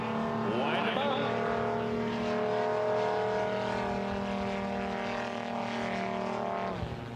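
Racing aircraft engines at a national championship air race in Roswell, New Mexico, drone loudly and steadily with a sustained tonal whine that slowly shifts in pitch, heard continuously throughout.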